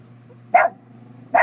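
A dog lets out two loud, sharp barks about 0.8 seconds apart, close by, over a steady low background hum.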